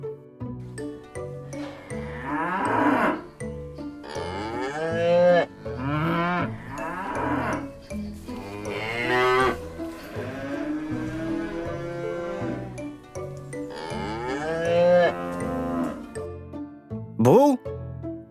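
A cow moos repeatedly at close range, long drawn-out calls in a slow series alongside a voice speaking.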